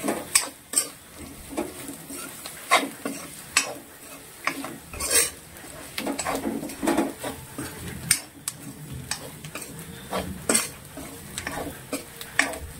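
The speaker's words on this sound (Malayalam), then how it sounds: "പെരിഞ്ജീരകം ഇത് നമുക്ക് നന്നായിട്ട് മൂപ്പിക്കാം." Fennel seeds roast in a pan for a clam meat fry, with a light sizzle under repeated metallic clinks and scrapes of a spoon stirring against the pan.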